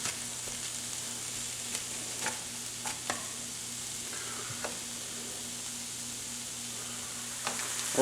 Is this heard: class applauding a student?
no